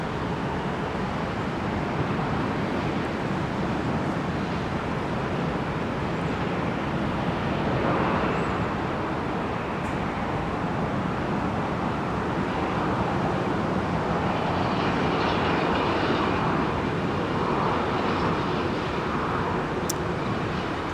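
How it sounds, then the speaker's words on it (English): Airbus A320-200 airliner on United flight 467 departing Minneapolis–St. Paul Airport, a steady broadband roar from a distance with no voices, slowly swelling toward the end. "467 now in view, an A320-200 outbound to San Francisco, California."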